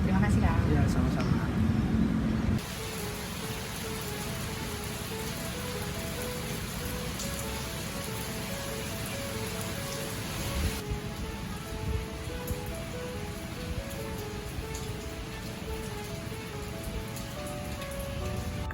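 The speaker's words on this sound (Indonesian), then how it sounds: "Kebetulan banget pas aku datang ke sini tuh lagi hujan" Steady rain falls outside the Taman Prasasti museum in Jakarta, a broad continuous hiss throughout with occasional passing traffic, and a voice talking over it at times.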